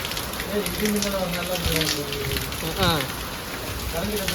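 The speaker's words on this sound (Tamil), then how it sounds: "ஐயோ, இந்த பக்கம் மழை, அந்த பக்கம் மழை" Steady rain pours down in a dense, continuous hiss, with voices speaking over it.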